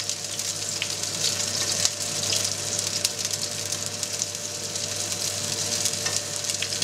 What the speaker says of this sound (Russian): Обжариваем с одной стороны до золотистой корочки